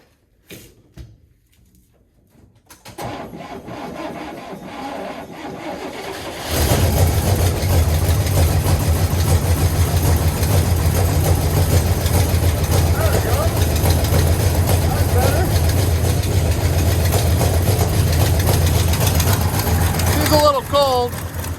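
An International truck engine cranks briefly, catches and starts, then settles into a loud, steady, rumbling idle that runs on close by, with a voice occasionally heard over it.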